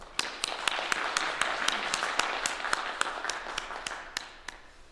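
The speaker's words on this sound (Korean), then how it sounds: "한번 박수로 하나님께 영광 돌리십시다" Church congregation clapping together in a firm, rhythmic unison beat after a choir's praise, each clap sharp and distinct, repeating steadily for about five seconds before gradually softening.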